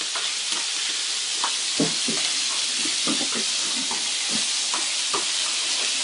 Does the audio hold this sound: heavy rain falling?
no